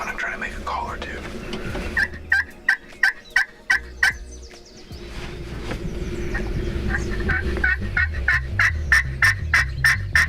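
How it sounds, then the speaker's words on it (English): Wild turkeys gobble at dawn below a hillside hunting spot, sounding as repeated rapid gobble bursts, fairly close and loud, with quieter stretches between volleys. "We just heard some turkeys gobble right below us here."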